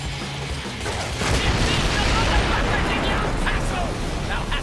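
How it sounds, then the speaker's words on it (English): Fireworks launched in the video game Sunset Overdrive make a dense, continuous roar of booms and crackling bursts that fills the whole stretch, close and loud, with game voices mixed in. "Shoot the fireworks"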